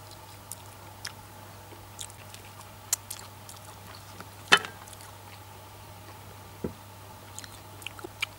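Close, wet chewing and gnawing on a baked lamb's tongue from a lamb's head cooked in a tandoor, soft irregular bites and squishes with one sharper crunch midway, quiet and alone.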